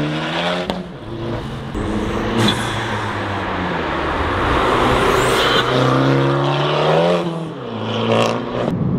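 A tuned Abarth competition car making 180 horsepower accelerates hard. Its engine note is loud and continuous, and the pitch climbs and falls through gear changes and revs, with no one talking.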